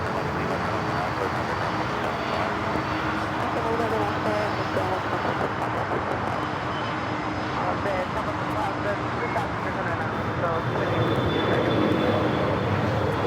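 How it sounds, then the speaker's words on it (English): Cargo airplane engines at Los Angeles airport give off a steady, loud roar that holds without a break, with people talking faintly underneath. "Look how small those engines are compared to the cargo loads."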